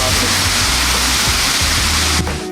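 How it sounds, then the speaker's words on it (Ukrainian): Water from a public fountain rushing in a steady, dense wash, close and loud throughout, easing slightly at the very end; no distinct splashing from the boys stands out. "Хлопці хлюпалися у водограї, не помічаючи нікого навкруги."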